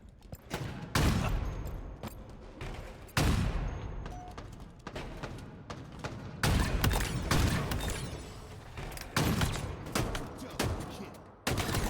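Gunshots in Halo Infinite at a competitive HCS Major event, rapid volleys of loud sharp shots in repeated bursts with brief pauses, and a voice talks faintly underneath.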